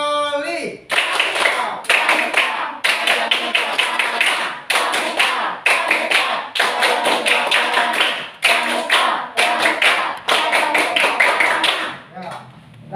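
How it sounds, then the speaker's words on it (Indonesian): Schoolchildren perform a rhythmic Pramuka scout clap in a classroom, sharp patterned hand claps in repeated bursts separated by short pauses, with voices chanting along throughout. "Tepuk pramuka 3 kali"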